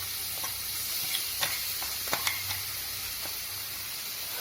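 A freshly ground spice mix for chicken chammanthi sizzles in hot oil in a pan, a steady close hiss broken by a few light clicks of stirring.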